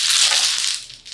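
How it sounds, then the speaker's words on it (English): Mahjong tiles are shuffled on a table with a dense, hissing clatter of tiles rubbing and clicking together, close and loud throughout the short burst, with no talking. "So first part, shuffle the tiles."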